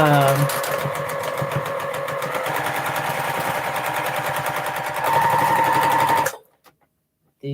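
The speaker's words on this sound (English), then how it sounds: "I can sit here all day and sew all of these strips together" A sewing machine stitches long fabric strips together along a scant quarter-inch seam allowance guide. It runs in a steady, rapid, close stitching rhythm for about six seconds under a person talking, then stops abruptly into silence.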